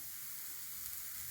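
A chicken filling with chopped onions sizzles steadily in a pan, a soft, even hiss of frying that stays constant and fairly faint throughout the short moment, with no voices.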